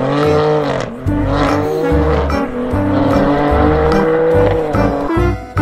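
A toy race car sounds off with loud, continuous engine whine and tire-squeal effects that rise and fall, fairly steady throughout, with no talking.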